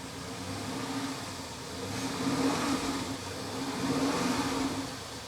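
A BMW X5 E70 with the N63 xDrive50i engine idles with the coolant tank caps off, giving a steady low hum that swells gently in waves, alone with no talking.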